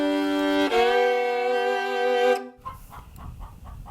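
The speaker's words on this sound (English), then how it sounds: "good morning from the chicken coop, and got Dottie on my lap again" Chickens call loudly and close up in a chicken coop. One long, drawn-out, tonal squawk is followed by softer, choppy clucks.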